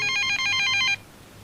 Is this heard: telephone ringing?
yes